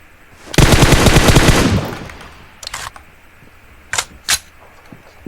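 Automatic gunfire in the video game PUBG, a loud rapid burst lasting about a second that quickly tails off, followed by a few sharper isolated shots and clicks, with no talking.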